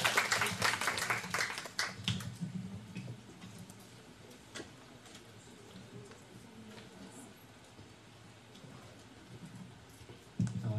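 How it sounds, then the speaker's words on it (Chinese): An audience applauds to welcome a lecturer at an academic talk: a dense burst of clapping at the start that thins into scattered claps and fades to a quiet room. "所以让我们以掌声热烈欢迎郑景泉郑老师郑院士。"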